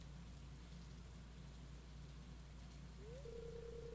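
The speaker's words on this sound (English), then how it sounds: "I like the rain." Rain falls steadily in the Stardew Valley video game, a faint, even hiss that holds throughout, with a soft musical tone entering near the end.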